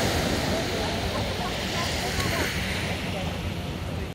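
Sea waves wash against a seashore on a warm spring day on the coast, under steady wind noise. A broad, continuous roar of surf fills the whole stretch.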